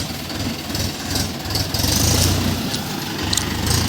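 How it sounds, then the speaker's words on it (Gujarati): A tractor engine running steadily at a farm, a continuous low rumbling drone with rough vibration, fairly loud and close, with no talking. "રોહિતભાઈ જો ટ્રેક્ટર લઈને નાખવા જાય છે।"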